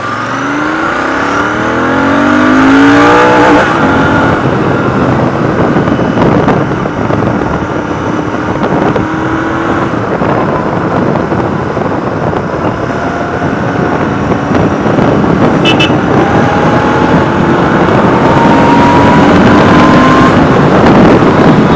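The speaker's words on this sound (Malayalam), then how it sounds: "അത്യാവശ്യം നല്ല എക്സോസ്റ്റ് നോട്ടാണ്" A Royal Enfield Continental GT 650 motorcycle's exhaust drones loud and close, with rising engine pitch sweeps as it revs and accelerates through gears over about twenty seconds, no voices present.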